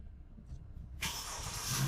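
A car engine starts after a quiet moment, bursting into a loud, broad roar and then settling into a steady running note. It is heard from inside the car, with no talk.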